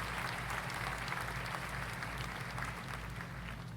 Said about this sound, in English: crowd erupts into cheers as the students all bow to the audience, Zoe included.